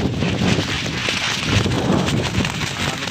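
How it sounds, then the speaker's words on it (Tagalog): Strong wind buffets the microphone on a bridge during an overseas worker's site visit, giving a steady, loud roaring rumble that fills the whole stretch with no speech over it. "talagang medyo maingay lang kasi sobrang hangin po talaga"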